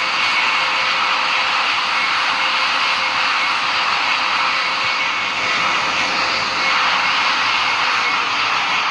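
An airplane takes off in a flight simulator game, its engine roaring in a loud, steady, broadband drone that holds constant throughout, with no voices over it.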